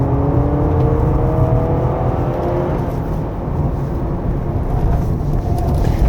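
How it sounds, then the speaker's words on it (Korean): Steady loud road rumble and tire roar from inside a moving 2025 Honda CR-V Hybrid 4WD on a winding road, with a rising whine from the rear tires as it corners; no talking. "지금 코너에서 뒷바퀴에서도 소리가 꽤 많이 나요."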